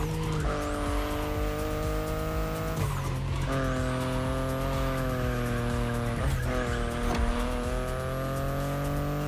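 A BMW i8 in the racing game The Crew Motorfest drives hard, its engine rising through gears with shifts and tire squeal, loud and continuous with no talking.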